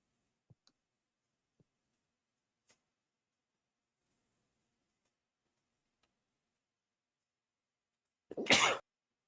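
A single short sneeze bursts out near the end after near silence broken only by a few faint clicks.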